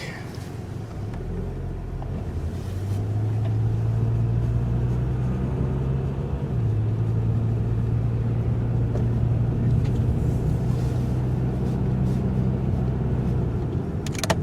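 A 2000 Toyota Camry with a freshly repaired exhaust driving around the block, its engine a steady low hum and drone under road rumble, with a faint rise in pitch as it pulls away.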